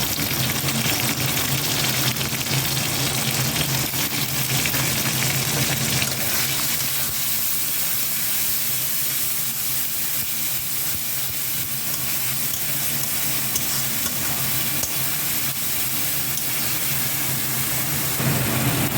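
Ginger, garlic and onion paste fries in hot oil in a pan, giving a continuous, even hiss and sizzle that stays close and unbroken for the whole stretch.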